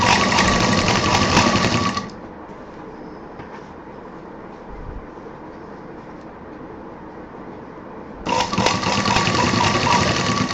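A sewing machine stitches the bottom of a handbag in two loud, rapid bursts, one at the start and one near the end, with a quiet pause of handling between them.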